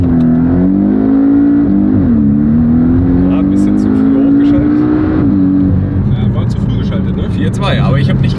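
A rear-wheel-drive car launches hard under launch control, its engine climbing steadily in pitch through the gears with a brief dip at each shift, loud and close from inside, while someone talks over it.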